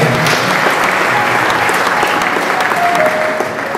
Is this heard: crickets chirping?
no